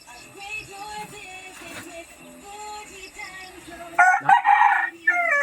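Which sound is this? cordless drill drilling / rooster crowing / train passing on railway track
rooster crowing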